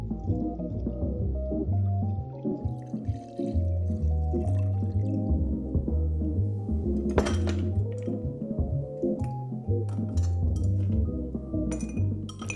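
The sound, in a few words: stirring a clarified Ramos Gin Fizz cocktail with ice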